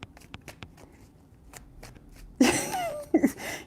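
A tarot deck is handled with soft taps and rustles, then riffled in one short, loud burst near the end, close up with no voices.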